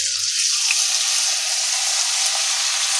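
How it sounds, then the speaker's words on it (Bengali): Potatoes frying in peanut oil left over after frying nuts, a steady dense hiss and sizzle that stays even and close throughout, with no voices. "তা এখন আমি আলু ভাজাটা দিয়ে দিচ্ছি।"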